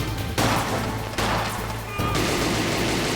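Video game gunfire rattles in a dense, loud barrage of overlapping shots and impacts, with brief breaks between volleys, continuous and close throughout.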